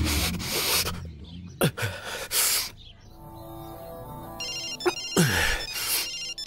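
A mobile phone ringtone plays amid rough rubbing and whooshing sounds in a film scene, the electronic melody rising in the middle and continuing alongside loud noise bursts.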